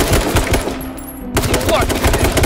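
Rapid bursts of automatic gunfire from the battle royale video game H1Z1, loud and close, dense at the start, dropping out briefly in the middle, then resuming as a steady rattling stream.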